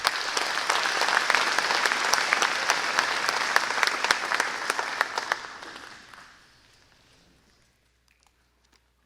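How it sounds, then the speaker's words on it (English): Warm round of applause from a graduation ceremony audience, steady and full for about five seconds before thinning out and fading to near silence. "Let's give a nice round of applause to Tina Coker Hammonds."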